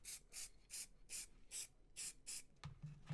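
WWScenics matt varnish sprayed from an aerosol can onto a painted model in eight short, rhythmic hissing bursts, close and fairly quiet, ending with a soft handling clatter.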